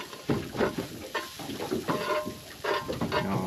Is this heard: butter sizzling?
yes